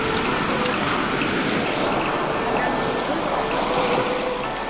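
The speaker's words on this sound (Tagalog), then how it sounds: "Kaya umaabot na ang alon dito." Sea waves washing onto a rocky shore at high tide in Clear Water Bay, Hong Kong, where mussels are being gathered; a steady, loud broadband wash of surf fills the whole stretch without pause.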